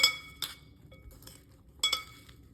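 Salad of broccoli, baby carrots and chickpeas being mixed in a glass bowl, with three distinct bright clinks of utensil on glass separated by quieter rustling.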